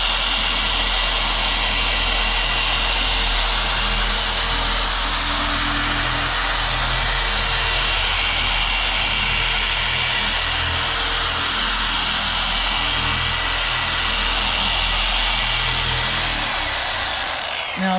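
A Harbor Freight 8mm-throw dual action polisher runs at speed 6, giving a loud, steady motor whine with a broad buzzing hiss that holds constant for the whole stretch, no voices over it.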